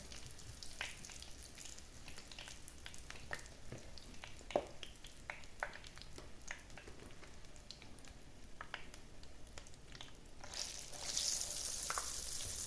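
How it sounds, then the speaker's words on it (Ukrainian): Quiet sizzling of bacon-wrapped eggplant frying in a pan, with scattered crackles and pops, growing a bit louder and hissier toward the end. "І смажимо так, щоб гарно підсмажився з однієї сторони, потім з іншої."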